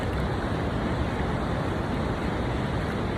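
A dangerous-looking waterfall in Jajarkot roars as a loud, steady, broadband rush that fills the whole clip without a break and with no voices.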